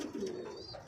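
A hen homing pigeon coos steadily after landing from a 104 km training flight, a close, continuous low throaty murmur through the whole moment with no talk over it.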